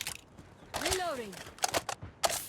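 Weapon reloading during an MG42 match in a first-person shooter, a series of metallic clicks and clacks spread across a couple of seconds, sitting under game sounds with a short tonal whoosh in between.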